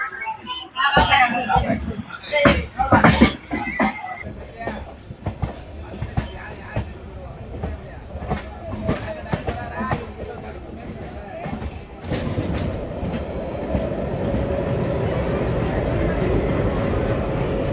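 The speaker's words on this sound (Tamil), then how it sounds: "பாய் பாய் திருநெல்வேலி ஜங்ஷன்." A train rumbles along the rails with a steady low roar and rhythmic clacking, while a voice talks over the noise early on, at Tirunelveli Junction on the Nagercoil Antyodaya Superfast Express.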